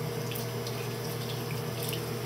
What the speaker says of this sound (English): And then I put water and like wash my hands first